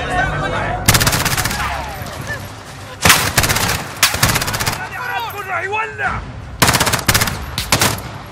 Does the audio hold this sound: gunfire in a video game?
yes